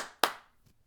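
A single sharp hand clap rings out in a quiet room to hush a dog, followed by a faint softer tap.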